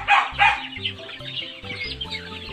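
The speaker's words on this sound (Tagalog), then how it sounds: "Daming manok." Several chickens cluck nearby, a couple of louder squawks at the start followed by steady, overlapping clucking.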